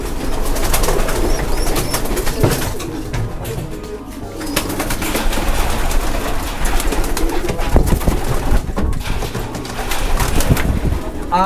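Pigeons cooing inside a loft, many birds giving overlapping low coos close by, with occasional wing flutters and faint talk in the background.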